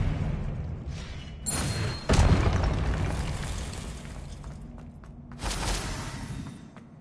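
A spell is cast in the video game Hogwarts Legacy, producing booming magical bursts and whooshes, with a sharp blast near the middle and another toward the end over a rumbling background.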